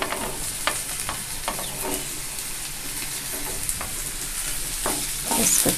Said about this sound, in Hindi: अब मैं इसमें सबसे पहले आलू डालती हूँ।